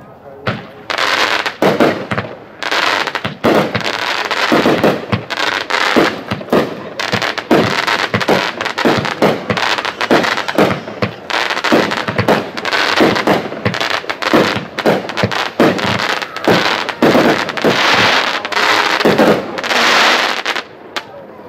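Monster Truck 16-shot 200-gram consumer fireworks cake fired at a demo, a rapid loud series of launches and bursting cracks, with people talking over the volley.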